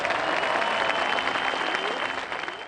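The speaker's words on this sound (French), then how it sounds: "Je vous demande d'applaudir Marcel Sim" Dense, sustained applause from an audience at a golf awards ceremony, a steady near wash of many hands clapping throughout.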